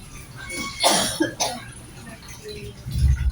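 Two short, sharp coughs close by, one after the other, followed by quieter background sounds.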